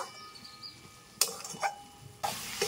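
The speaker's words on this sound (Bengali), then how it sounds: "এলাচ গুঁড়োটা দিয়ে একটু নাড়াচাড়া করে নেব" Spatula scraping through coconut filling with cardamom powder in a pan, heard as three short, fairly quiet bursts of stirring over a near-silent kitchen background.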